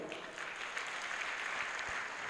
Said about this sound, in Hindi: आपने तो तालियां बजा दी